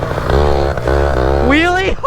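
A small go-kart engine that is running rough buzzes loudly and revs unevenly, its pitch climbing sharply near the end, with voices mixed in over it.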